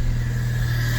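A Fiat Panda engine idles steadily while warming up after a thermostat change, a constant close, even hum with a low throb and no revving.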